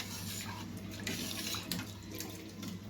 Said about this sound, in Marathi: इथं मी 3 ग्लास पाणी घेतली आहे।